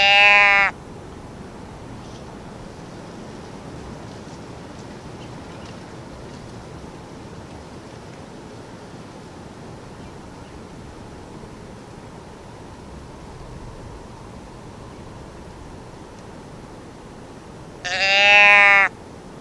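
A can call mimicking deer bleats, used while hunting bucks outdoors, gives two short, loud bleats, one at the start and one near the end, with a long stretch of quiet outdoor background between them.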